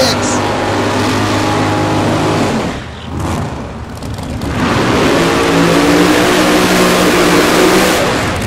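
At Tulsa Raceway Park, a 68 Camaro and an 06 Corvette Z06 launch side by side in a drag race, loud roaring engines that dip briefly, then surge back into sustained high-revving thunder under an announcer's voice.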